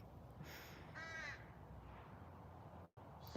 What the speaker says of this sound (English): I'm hearing hummingbirds and crows